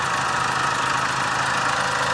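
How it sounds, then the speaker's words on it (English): A Chrysler PT engine being checked for an oil pressure sensor fault runs with a steady, close mechanical drone and a faint knocking texture, holding an even level with no voices. "I'm going to rev the engine to apply some engine load"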